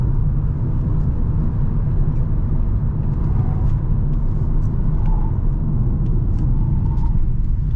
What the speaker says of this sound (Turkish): maalesef tekerlerden uğultu gidiyor